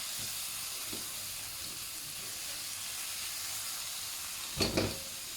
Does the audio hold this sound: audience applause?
no